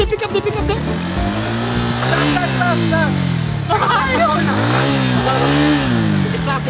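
A car's engine revs and rises in pitch as it pulls away slowly on a learner driver's first attempt, the gear-like sweeps repeating, with excited voices talking over it.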